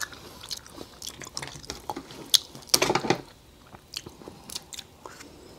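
Someone bites and chews into Canadian lobster meat up close, producing wet, crunchy mouth sounds in irregular bursts with a louder cluster of crunches in the middle.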